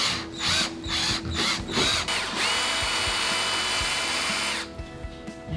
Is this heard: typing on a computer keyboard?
no